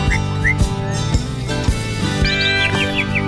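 An Asian pied starling, the jalak suren, gives short whistled chirps and rising notes over a steady, loud tonal musical backdrop.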